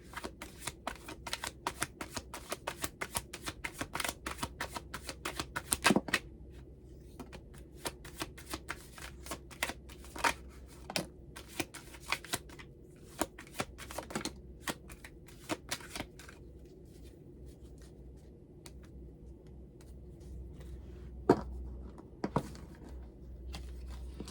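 Tarot cards are shuffled by hand in quick riffling flurries with soft slaps and pauses, close and fairly quiet, with no one speaking.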